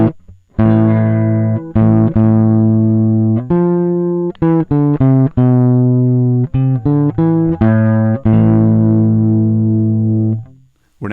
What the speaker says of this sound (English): we're now hearing the distortion there.